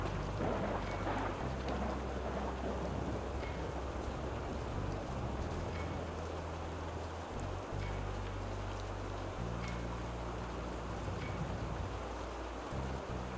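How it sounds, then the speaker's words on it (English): Steady rain falls in a cemetery in the video game Rue Valley, a constant wash of hiss over a low rumbling bed that suggests distant thunder, with no voices throughout. "The rain thickens."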